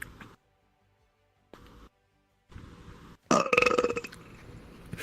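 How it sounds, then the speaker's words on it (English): A loud, drawn-out burp erupts close to the microphone in a VRChat voice chat, following a few short bursts of quieter noise and near silence. "The last thing they're gonna hear is a burp."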